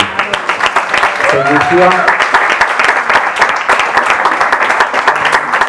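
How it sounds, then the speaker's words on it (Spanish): An audience at a book presentation applauds steadily, dense clapping filling the room for several seconds, while a voice briefly speaks over it near the start. "Pido un aplauso"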